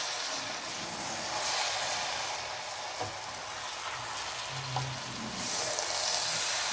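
Cabbage cooking with fish head in a pan, a steady close sizzle and hiss with a few soft scrapes and knocks of stirring, no voices.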